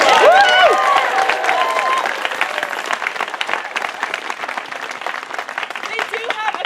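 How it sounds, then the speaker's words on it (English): Audience applause at an outdoor theatre show in a Seattle park, dense clapping with some cheering that follows a speaking voice and continues, gradually thinning and loosening toward the end. "Let's give them a round of applause."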